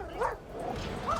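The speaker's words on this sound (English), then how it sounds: "The dogs barking and all that." A dog barks twice, short yips with a brief pause between them, set against a low background hum and sounding moderately near.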